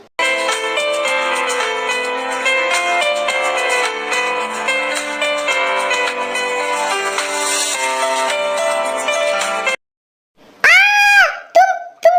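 A woman lets out a few short, loud, wavering screams right after steady music cuts off, each cry sharp and close.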